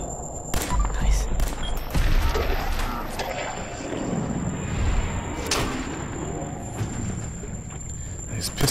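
Rapid pistol fire in a video game, with sharp repeated shots and impacts over loud, busy combat noise and a voice talking.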